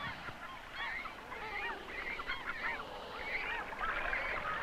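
Seabirds calling from the crowded nesting cliffs of the Pribilof Islands make a dense, continuous chorus of honking, overlapping cries that stays fairly faint and steady throughout.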